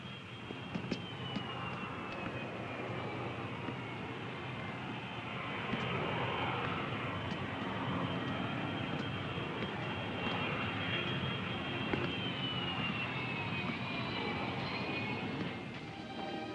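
A fixed-wing airplane engine runs steadily before departure, a continuous broad drone with a faint whining tone, fairly quiet and unbroken, in a 1964 film scene.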